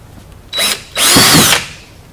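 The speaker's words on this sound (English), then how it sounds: "next we're going to drill two holes where we just marked them here" A power drill bores two holes while mounting a windshield bracket on a Polaris General side-by-side, sounding as two whining bursts: a short one, then a longer, steadier run, close and loud with no talking.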